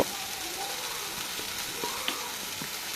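Drumstick leaves being stir-fried in a pan, a soft steady sizzle with a few light scraping taps from stirring over three seconds, with no voices.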